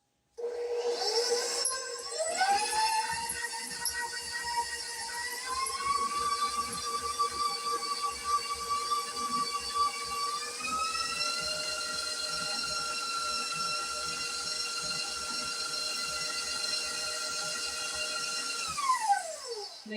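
An electric stand mixer beats butter, vanilla extract and salt in a steady, loud whine that jumps up in speed twice and then winds down at the end, no talking.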